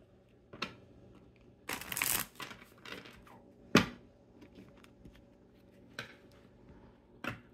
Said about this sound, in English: So I'm going to shuffle these.